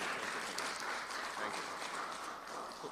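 A conference audience at a national health research event claps steadily, a dense wash of applause at low, distant volume lasting about three seconds.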